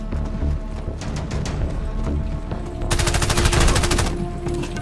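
Gunfire in the shooter game Warface, rapid bursts of shots that build into dense, loud automatic fire in the second half.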